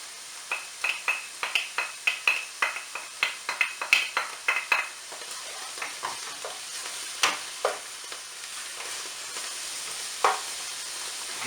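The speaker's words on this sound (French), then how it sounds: "je vais faire cuire mes oignons" Onions and mushrooms fry in olive oil with a sizzle and hiss, while a utensil stirs and scrapes the pan in quick, rhythmic strokes for the first half. The stirring then slows to a few scattered clinks over a continuous sizzle.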